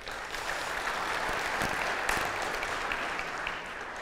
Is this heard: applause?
yes